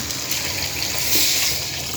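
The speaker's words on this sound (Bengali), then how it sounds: "এখন আমি পানি দিয়ে দিব" Continuous rushing gush of measured water poured into a pot of fried pulao rice, steady throughout and slightly swelling in the middle, close and fairly loud.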